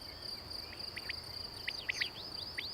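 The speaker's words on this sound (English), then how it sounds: "A master digger, aka field cricket." A field cricket chirps in short, shrill bursts spaced irregularly over a constant high insect drone, close and clear in an otherwise quiet outdoor setting.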